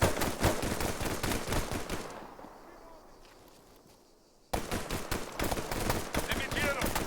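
Gunfire in ARMA 3 cracks out in dense, rapid shots and bursts, fades to a low lull, then returns abruptly as loud, close volleys.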